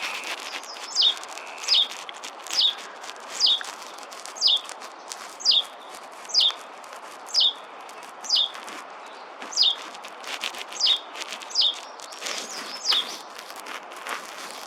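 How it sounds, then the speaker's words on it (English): A Hutton's vireo repeats a short, high call over a dozen times at an even pace of about one per second, moderately close, outdoors in Arizona with a faint background hiss. "This Hutton's vireo gave me a hard time while I was watching some of the other birds"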